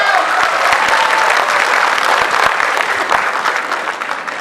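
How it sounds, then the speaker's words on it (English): A room full of people at a youth conclave in Imphal clapping steadily and loudly, sustained throughout with no talk. "Give a round of applause to yourself."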